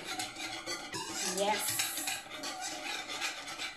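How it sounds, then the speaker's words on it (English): A spoon stirs pepper into a creamy spinach sauce in a pan, giving soft scraping and swishing strokes close by for a few seconds. "And mix that in."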